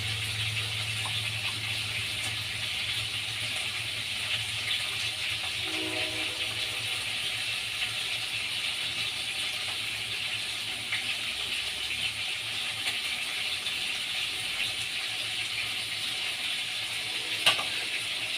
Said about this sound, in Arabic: بعد كده بقى عندي بصل، هنزل بالبصل كله